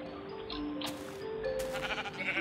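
Sheep in Minecraft bleat in a few short, nasal cries over quiet game ambience, fairly close and clear.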